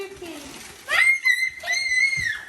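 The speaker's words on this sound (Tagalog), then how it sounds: "Grabe naman tili nito." A child lets out two high, piercing shrieks indoors, each held about half a second, loud and close, with other voices talking around them.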